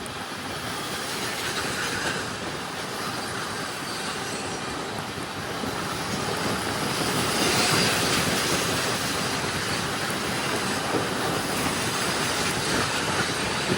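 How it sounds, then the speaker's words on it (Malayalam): A very long coal-laden goods train rolls past on an adjacent track, a steady, loud rumble of wagon wheels with rhythmic clickety-clack and faint squeal, continuous throughout without any talk. "ഗുഡ്സ് ട്രെയിനെയാണ് ഇപ്പോൾ ഇവിടുന്ന് ഓവർടേക്ക് ചെയ്യുന്നത്."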